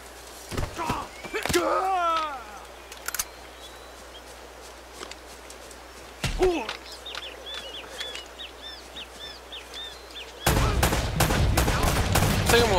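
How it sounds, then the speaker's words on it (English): Gunfire in Uncharted: Drake's Fortune, scattered sharp shots early on followed by a loud sustained volley of rapid bursts at the end, with a voice and jungle game ambience in between. "stay back and gun these guys down"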